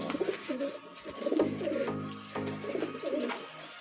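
A racing pigeon cooing on arrival, repeated soft throaty coos in rolling phrases, close and clear over faint background noise.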